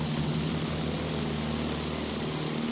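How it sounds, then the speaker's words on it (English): An enemy propeller plane flies over the Suez Sinai desert in Battlefield 1, giving a steady, loud, droning engine hum with no break or change across the whole stretch. "Sighted! An enemy plane!"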